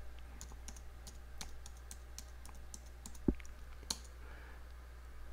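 A password being typed on a computer keyboard, with a quick run of light, soft key clicks over a steady low hum and one sharper tap near the end.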